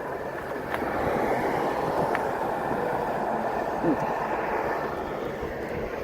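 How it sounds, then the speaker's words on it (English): A MARTA subway train in East Point, Georgia rolls past as a steady, continuous rumble that holds for several seconds at moderate distance, heard from an e-bike ride. "Hey, it's a subway train."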